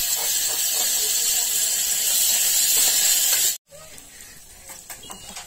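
Garlic, curry leaves and coriander sizzling in hot oil, a loud, steady hiss and crackle that stops abruptly, then gives way to faint clinks and quiet kitchen sounds.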